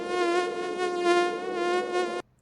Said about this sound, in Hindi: ढेर सारे मच्छरों का भिनभिनाते हुए आवाज आने लगा